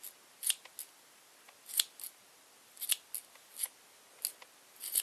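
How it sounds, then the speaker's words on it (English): Scissors snipping through yarn while trimming a pom-pom, a series of quick, crisp metallic cuts in an irregular rhythm, close and clear against a quiet background. "Keep cutting until you're happy with it."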